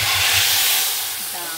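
Onion tadka (bhagar) poured into cooking chana dal lets out a loud, steady hissing sizzle that gradually settles, with a faint voice underneath.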